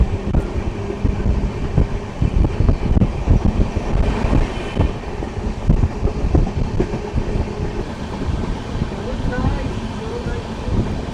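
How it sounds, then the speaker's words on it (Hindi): A train approaches on the railway near Jalandhar Cantt station's outer limits, a loud, steady rumble of wheels and rolling stock with rhythmic clatter that holds throughout. "सामने से एक ट्रेन आ रही है।"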